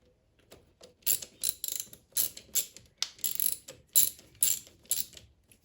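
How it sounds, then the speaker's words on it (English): A cheap hand ratchet tightens a bolt on the throttle body of a Mazda MX5 NC Mk3, its pawl clicking in about nine quick bursts of rapid clicks with short pauses between them, close and alone. "can't find a ratchet. Here's a cheap crap one."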